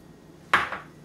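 Sesame seeds dry frying in a pan over medium heat make a single sudden bright metallic scrape and rattle as they are tossed, close and brief, fading within half a second.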